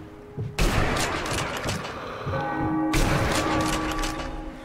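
Gunfire in the video game Sniper Elite V2, a church bell ringing nearby: two loud, sharp blasts about two seconds apart, each trailing into a long, noisy rumble over steady background ambience.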